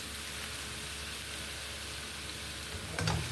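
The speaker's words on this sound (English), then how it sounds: "I need to wait for the onions to sweat just a little bit for me to add the next ingredient" Onions sweating in a pan while fried rice with chicken is cooked, a faint, even sizzle running throughout, with a short louder scrape or stir near the end and no one talking.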